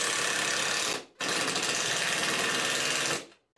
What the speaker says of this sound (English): drill the pilot hole, and drive the screw.